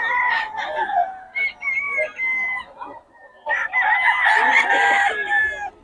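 Roosters in a backyard in Bocaue crow loudly and cluck close by, several overlapping calls rising and falling across the whole stretch, with a brief lull partway through.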